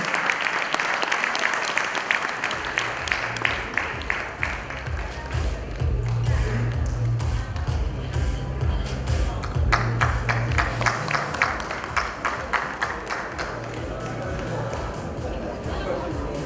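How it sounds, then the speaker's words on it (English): Sustained applause from a large audience at an Indian Academy of Echocardiography fellowship programme, dense steady clapping filling the whole stretch, with some talk and crowd noise mixed underneath. "that's what we expect from a big round of applause"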